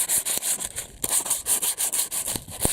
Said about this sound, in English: I've got a bit of P40, so kind of coarse sandpaper, and just take off the high parts of any rust as well